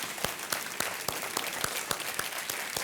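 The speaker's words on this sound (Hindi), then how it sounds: "तालियों के साथ इनका एक बार फिर हम अभिनंदन करते हैं।" A TV quiz show studio audience clapping steadily, a dense and even patter of many hands held at one level throughout, with no voices on top.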